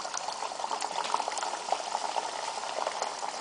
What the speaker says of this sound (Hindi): अब हम इसमें एक एक करके मठरी डालेंगे।